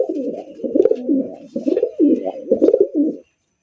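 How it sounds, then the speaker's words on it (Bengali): Racing pigeons at a pigeon market coo in a run of close, throaty bursts, each rolling call following the last with brief pauses, with no talking over them. "আরো একজন রেসার কবুতর দেখেন"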